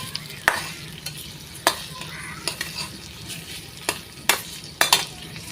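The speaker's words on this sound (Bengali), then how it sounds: "এখন দিয়ে দিব পেঁয়াজ কুচি পেস্টটা ভাজবে হালকা" A soft, steady sizzle of onion paste frying in a pan, broken by sharp scraping clicks of a spoon stirring at irregular intervals.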